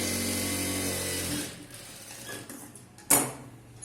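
A sewing machine stitches a chudithar top, its steady mechanical whir running for about a second and a half before dropping away to quieter rustling, then a short sharp clunk near the end; no one talks.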